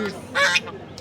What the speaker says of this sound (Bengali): দর্শক এই মুহূর্তে দেখতে পাচ্ছি চীনা হাঁস